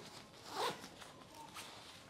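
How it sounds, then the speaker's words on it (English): A zipper is pulled closed on a Tripped compression packing cube to squeeze it down, one close rasping zip followed by fainter scratchy rustling. "And then I use the second zipper here to compress it down."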